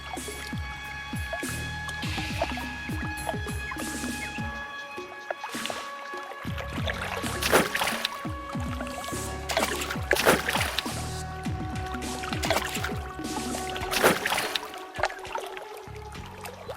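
Cold water splashes, pours and trickles in irregular bursts during a washing ablution, close and fairly loud with squishy handling sounds.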